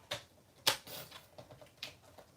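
Scissors cutting Christmas fancy paper come through as a few crisp, sharp snips spaced irregularly, close and fairly quiet with no talk over them.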